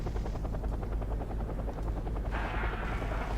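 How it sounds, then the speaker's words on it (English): Russian Marine helicopter in the video game Wargame, its steady rotor thump chopping loudly and continuously up close, with a brighter hiss joining near the end. "It's a Russian Marine helicopter that can fly through trees"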